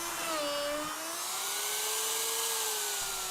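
A router bores holes in a torsion box assembly tabletop, a loud sustained whine whose pitch drifts slightly as it cuts, heard close and continuous.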